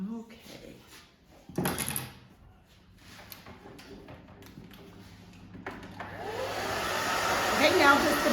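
A hair dryer blows on the back of a woman's short haircut, its steady whoosh rising toward the end after quieter moments of handling, with someone speaking over it.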